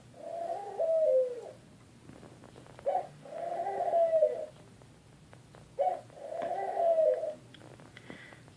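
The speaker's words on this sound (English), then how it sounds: "There's noisy doves. They're noisy." Doves coo close by in three drawn-out, bubbling phrases separated by short pauses, with no talking over them.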